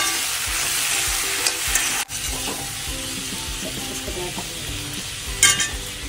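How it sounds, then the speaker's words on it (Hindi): Ripe tomatoes for chutney cooking in a pan, a constant close sizzle broken by repeated spatula scrapes and clinks throughout. "इसके बाद हम डालेंगे पके हुए टमाटर"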